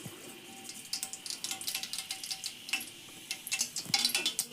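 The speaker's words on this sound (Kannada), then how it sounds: "ನೋಡ್ರಿ ಸಾಸಿವೆ ಹಾರಿದು" Mustard seeds crackle in hot oil for a tempering, with quiet, irregular pops and ticks over a faint sizzle that grow busier toward the end, with no talking.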